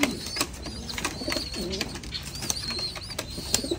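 Pigeons coo in low, repeated throaty phrases at close range against a busy background with faint higher chirps, while males and females in a pair are compared.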